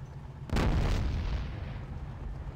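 A rocket explosion in the Fallout Tactics video game: one loud, close blast erupts suddenly and trails off into a long, fading rumble.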